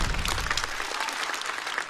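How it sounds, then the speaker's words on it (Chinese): A studio audience at a stand-up comedy show claps loudly and steadily, a dense close wash of applause that fills the whole moment without a break. "再次掌声送给小雪"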